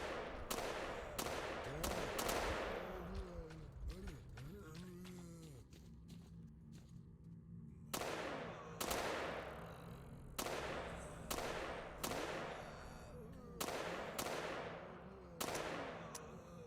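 In the game Fate of the Zone, gunfire at zombies comes in short bursts, each a cluster of sharp shots, repeating every couple of seconds with quiet gaps between. The shots are fairly faint.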